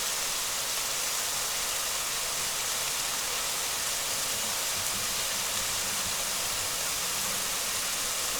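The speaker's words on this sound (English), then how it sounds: "The easiest way to get rid of those is to just run them under some water," Tap water runs in a steady, even hiss as chili peppers are rinsed under a slow stream to wash out their seeds, continuous and unbroken with no talk.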